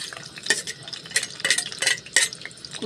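Onions and green chillies frying in oil, stirred in a pan with rhythmic scraping strokes roughly every half second over a light sizzle, close and clear with no voices.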